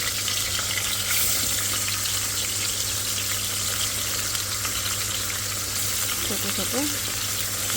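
Fish frying in hot oil in a wok, a loud continuous sizzle and crackle close to the microphone with a steady low hum underneath.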